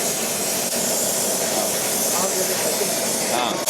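A kilogram of onions hits hot oil for vegetable palav with a loud, continuous hissing sizzle, steady throughout, with a voice talking over it.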